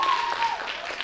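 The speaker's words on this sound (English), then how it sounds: "Let's give another round of applause for your pageant director this year." Pageant audience applauding, a brief dense wash of clapping heard at moderate distance, steady throughout with a faint tone running underneath.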